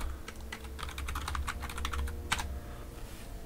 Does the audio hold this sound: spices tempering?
no